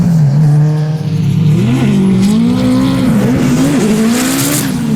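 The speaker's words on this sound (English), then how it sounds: "SR Plenty versus the LS V8 of Jeff Jones out front." Drift cars on a New Zealand drifting course, an SR engine and an LS V8, roar loudly and continuously with rising and falling revs and screeching tire squeal throughout.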